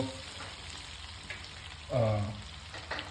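Sliced ridge gourd fries in a pan over medium heat with a steady, low sizzle throughout and a brief louder stir or scrape in the middle.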